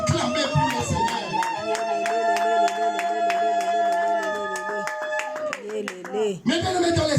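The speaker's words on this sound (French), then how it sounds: "J'aimerais que quelqu'un puisse acclamer pour le Seigneur." A church congregation clapping in a steady, even rhythm, the sharp claps loud and close, keeping time over sustained musical tones.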